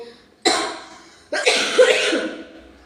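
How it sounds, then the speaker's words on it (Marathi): Two harsh coughs from one person close by, the second longer and raspier than the first. "कंटिन्यू बोलल्यानं खोकलं येतं"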